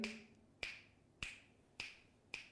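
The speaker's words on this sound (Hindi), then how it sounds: "बोल रहा है चुटकी की आवाज है।" Five sharp finger snaps ring out alone at a steady pace, roughly one every half second, each crisp and close with a short bright tail.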